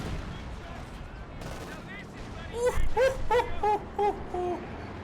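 Artillery and gunfire in a Company of Heroes 2 real-time strategy battle: scattered booming impacts and bursts of shots, followed by whining tonal sounds, with a caster's voice talking over the action.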